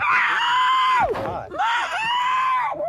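A woman screams in pain loudly, complaining of shoulder pain during an arrest, in two long, strained cries separated by a short gasping break.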